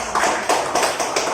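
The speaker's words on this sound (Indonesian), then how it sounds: "Ya, beri tepuk tangan pada kita." Hands clapping in a classroom, a few sharp group claps in a loose rhythm with single and double beats, close and fairly loud.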